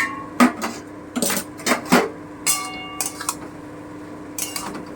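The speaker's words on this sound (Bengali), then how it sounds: "এবারে আমি ঢাকাটা দিয়ে আর একটুখানি ভেজে নেব একটু ঢাকাটা তুলে দেখে নিই কতটা হলো" Metal pot lid lifted off a cooking pot of Bengali fish charchari, a few sharp clinks and clatters close by, followed by quieter scattered taps over a low kitchen hum.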